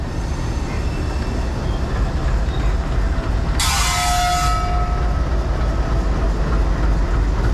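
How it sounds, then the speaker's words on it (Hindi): A WDM 3A diesel shunting locomotive and train give a loud, steady rumble at close range. A short, bright burst of hiss and a whistle-like tone rise over it midway. "ये शंटिंग लोकोमोटिव है,"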